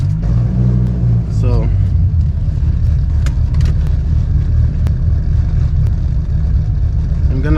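A 1997 Dodge Viper GTS engine runs steadily as it warms up, a loud, deep, continuous rumble close by, with someone speaking briefly over it.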